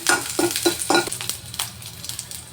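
Ginger and green chillies fry in a pan, a bright sizzle with a quick run of four or five rhythmic stirring scrapes at the start, then a softer ongoing crackle, close and without speech.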